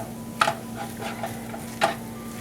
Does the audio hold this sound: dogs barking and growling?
no